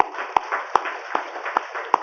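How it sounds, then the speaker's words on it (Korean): A church congregation claps in a slow, sparse rhythm, about six distinct claps spaced roughly every 0.4 seconds over a steady background hum, with no voices. "한번 박수 한번 하십시다"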